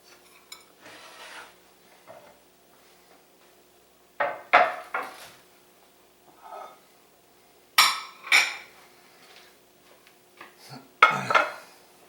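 Dishes, pots and pans clatter in a home kitchen during cleanup while chicken fettuccine is cooked: scattered, sharp clinks and knocks come in short bursts separated by quiet gaps, fairly close and with no talking.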